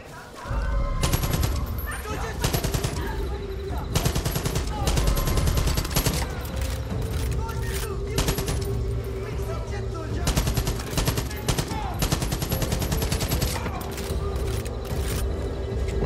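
Machine gun fire in Far Cry 5, loud sustained bursts of rapid automatic shots with short gaps between volleys, close and dense across the whole stretch.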